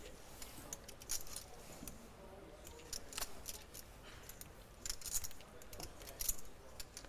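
A poker player at a European Poker Tour table in San Remo riffles his chips or cards before giving up his small blind, a steady stream of light clicking and clinking, soft and close, with faint murmuring in the background.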